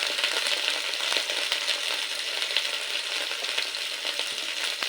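Sliced okra sizzles in hot oil in a pan while being stirred, a steady close crackle with light scraping and rattling from the utensil, no voices.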